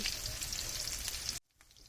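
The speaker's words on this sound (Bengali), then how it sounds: "আর পেঁয়াজগুলো খুব ভালোভাবে ভাজা হচ্ছে।" Chopped onions fry in hot oil in a wok over a clay stove, giving a close, crackling sizzle that cuts off abruptly near the end and leaves near silence.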